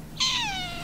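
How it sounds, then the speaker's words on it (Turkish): A cat at a motorcycle camp in Istanbul gives a single close, clear meow that slides gently downward in pitch and trails off, with no other sounds. "Kediye de ver abi, kedi geldi."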